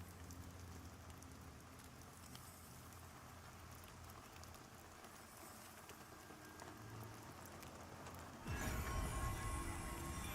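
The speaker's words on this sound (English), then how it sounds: "it looks like we're going to be getting some rain as well" Rain falls in the video game Pantheon, a steady soft patter and hiss at low level, with a brighter, louder burst of crackling rain noise near the end.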